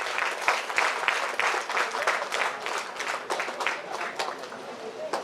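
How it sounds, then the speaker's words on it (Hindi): Loud applause from an audience welcoming an award recipient at a Vigilance Awareness Week awards ceremony, dense steady clapping filling the whole stretch with no one speaking over it. "आपका स्वागत है जोरदार तालियों से।"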